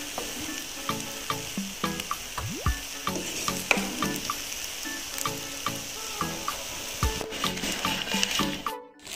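Sardine pilaou sizzling in a pan while being stirred, steady frying crackle with repeated scraping and clicking strokes of the spoon against the pan, ending in a short clatter.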